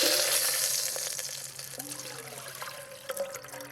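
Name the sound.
water poured into hot soup pot, deglazing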